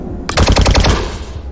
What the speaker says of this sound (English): Blaster bolts erupted from 3 sides, firing into the pile of abandoned crates.